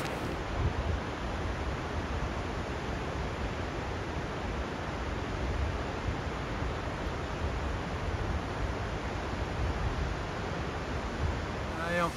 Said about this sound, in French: Il y a des cascades partout.